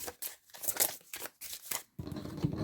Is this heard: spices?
no